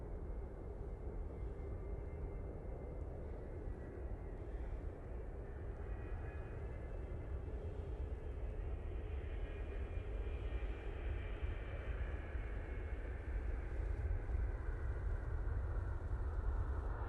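A Gulf Air Boeing 787-9 Dreamliner on short final to runway 05 left at Manchester, inbound from Bahrain, gives a steady loud jet-engine roar and rushing rumble that swells gradually and holds, with no voices.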